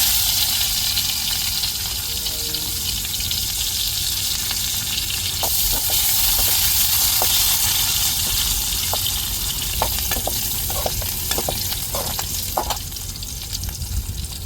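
Onions frying in hot oil with mustard seeds and urad dal, a steady loud sizzle with scattered pops and crackles nearby, no voices.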